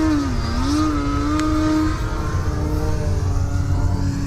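A Turbo Timber Evolution RC plane flies on one battery pack, its electric motor holding a loud, sustained whine that rises and dips in pitch as it maneuvers, close and continuous with no talking.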